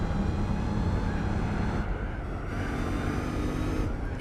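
Engine of a car in the Gran Turismo 4 racing game, a steady loud droning roar with layered harmonics that dips briefly around an upshift, continuous throughout.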